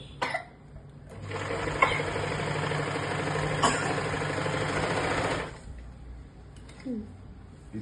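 A sewing machine stitching runs in a steady, close mechanical whir for about four seconds, framed by brief coughs and soft handling noises before and after.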